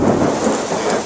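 A deep rumble of thunder rolls beneath heavy rain, loud and sustained for a moment.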